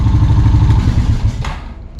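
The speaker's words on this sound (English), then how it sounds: "for being such an old bike, this thing does run pretty good" An early 2000s Honda Rancher TRX350FM3 4x4 ATV with an air-cooled engine runs close by with a loud low rhythmic chug, then the engine tapers off toward the end.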